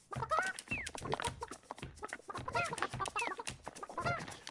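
Chickens cluck and squawk in the video game Burly Men at Sea, a steady run of close, busy clucking calls with a few higher squawks and no talking.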